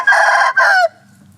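A young Thai game rooster stag crows close by, a loud two-part call with a brief break in the middle and then a quick drop-off, with no other sounds behind it.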